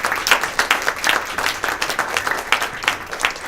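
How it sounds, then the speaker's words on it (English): Audience applause at a celebration luncheon, a steady patter of many hands clapping at moderate volume throughout, with individual claps standing out now and then. "Will you recognize that with your applause?"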